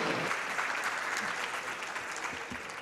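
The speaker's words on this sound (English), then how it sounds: "let's give him a round of applause" An audience at a keynote event welcomes a government communication secretary with even, continuous applause that carries on steadily throughout at moderate volume.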